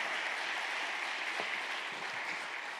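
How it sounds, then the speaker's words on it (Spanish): A church congregation gives steady, moderately distant applause, a continuous wash of clapping with no voices over it. "Vamos a dárselo fuerte ese aplauso."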